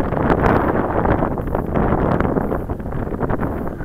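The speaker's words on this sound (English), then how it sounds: "It's a little scary with all this wind and turbulence." Gusty, turbulent wind outdoors at an RC model plane flying session, roaring across the microphone as a close, steady, rumbling rush with small surges throughout.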